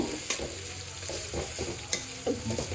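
Chopped onion, crushed garlic and ginger frying in a pan, a soft continuous sizzle with sharp spatula scrapes and clicks as they are stirred, close by and without speech.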